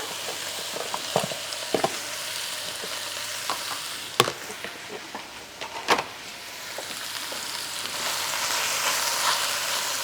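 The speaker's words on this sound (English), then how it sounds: "So this stage is going to take a little while they're frying." Onions fry in hot oil in a pan for French onion soup, a steady soft sizzle throughout, broken by a few sharp clicks and knocks of utensils, close and fairly quiet with no talk.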